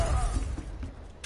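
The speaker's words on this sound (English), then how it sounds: "They just broke through that glass." Glass shatters in a PS4 video game, a dense crashing burst that fills the short moment and fades with scattered debris, loud and close.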